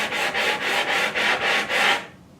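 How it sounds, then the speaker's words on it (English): Sandpaper rubs wood flush on a bookcase in six quick, even back-and-forth strokes, a dry rasping scrape that stops abruptly. "the sanding paper cuts really fast"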